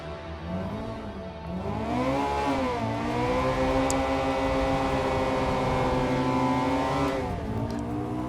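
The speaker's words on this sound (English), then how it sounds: "let's get this aggressive looking front end on the line and see if we can launch this thing decently" Honda Integra Type R DC2 launching hard from the line, its engine revving up loudly and climbing steadily in pitch, heard from inside the car with no talking.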